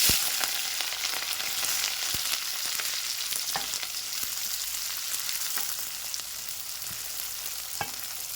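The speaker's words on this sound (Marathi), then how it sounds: "आणि मिरची थोडीशी चांगली तळू द्यायची" Cumin, chopped onion and green chilli frying in hot oil for masala egg bhurji, a constant close sizzle with sporadic soft taps and crackles, no voices.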